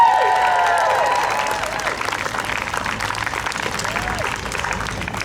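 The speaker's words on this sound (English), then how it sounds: "Let's cheer for him real quick." A rally crowd at Seattle's Cal Anderson Park claps and cheers loudly and steadily, with a few whoops rising above the sustained applause before it slowly tapers.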